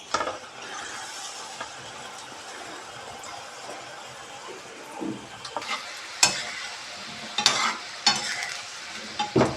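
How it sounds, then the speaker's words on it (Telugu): Challa undalu dumplings frying slowly in oil over a low flame: a faint, even bubbling sizzle, broken by a few sharp scrapes and clinks of a utensil, with no talking. "మొత్తం లోలో పెట్టేసుకొని అప్పుడు వీటిని ఫ్రై చేసుకోవాలన్నమాట."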